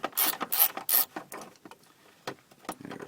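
A wrench working the bolts of the fuel filter cover on a Mercedes W202 C230, with a few quick ratcheting clicks and metallic rattles up front, then sparser faint taps, close by.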